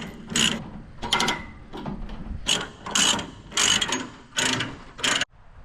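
Ratchet chain binders cranked tight, pulling short chains that hold a skid steer down to a trailer; about six close, loud bursts of rapid clicking separated by brief pauses.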